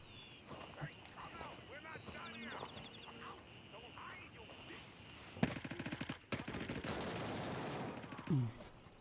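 Automatic rifle fire from a PvE questing video game with a 60-round magazine erupts midway, a loud sustained rapid burst following quieter game sounds and talk, then trailing off.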